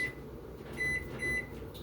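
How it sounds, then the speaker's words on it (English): A two-minute workout timer gives two short electronic beeps about half a second apart, faint and thin over a low room hum. "let me get this 2-minute timer started"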